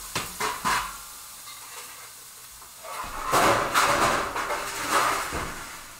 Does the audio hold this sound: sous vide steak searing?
yes